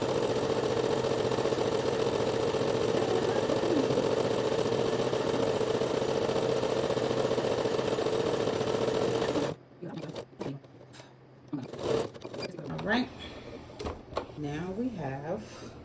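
A sewing machine stitching Bermuda shorts runs in a long, steady mechanical whir for about nine seconds, then stops abruptly; afterward a person talks over faint handling noises.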